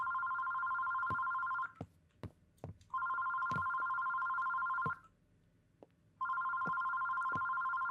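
A telephone rings in three long bursts separated by short pauses, with a few sharp clicks and knocks in between.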